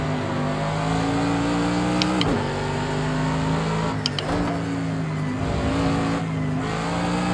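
A Formula 1 race car engine in Project Cars 2 drones loudly and steadily, its pitch dipping briefly as it shifts or brakes, continuous throughout with no talking.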